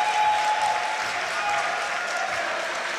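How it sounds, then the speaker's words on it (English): Audience at the YCS Milan 2018 Yu-Gi-Oh card game tournament final applauding steadily, a dense even clatter of many hands with faint cheering, sustained and moderately loud under the hall's ambience. "The crowd is cheering for him"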